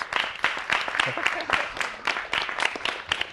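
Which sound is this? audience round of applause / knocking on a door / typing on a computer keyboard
audience round of applause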